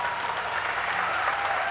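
Steady applause from a crowd at a swimming pool during a women's 400m freestyle S9 race at the ASEAN Para Games, a dense, continuous wash of clapping with no gaps.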